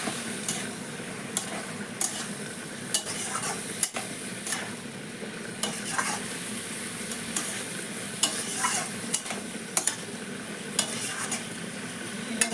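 Jackfruit sautéed with spice paste and a splash of water in a pan, steady sizzling broken by frequent scraping and clinking of a spoon against the pan.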